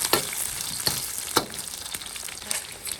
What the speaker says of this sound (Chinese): 腊肉先给炒一下